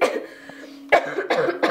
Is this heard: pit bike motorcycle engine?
no